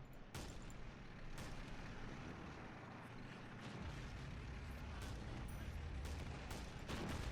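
M12 self-propelled gun firing in the Men of War: Assault Squad 2 battle game, a series of sharp heavy blasts over a rumbling battlefield din, some shots close and others farther off.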